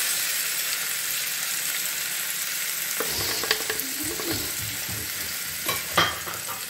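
Minced meat sizzling and frying in a pan on a gas stove, a steady crackle that grows busier partway through, with scraping stirs and a few sharp clicks near the end.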